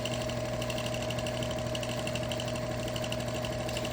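A quilting machine runs steadily through background meandering on a trapunto lone star flag quilt, a continuous mid-pitched motor hum with a fast stitching buzz at an even level, with no voices.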